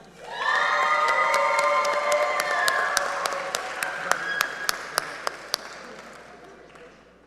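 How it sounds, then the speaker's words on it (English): A crowd at an engineering graduation ceremony claps and cheers, with whoops and high shouts over the applause. It swells quickly, holds strong for several seconds, and fades toward the end, with some sharper claps standing out. "Please give another round of applause for our mechanical engineering graduates"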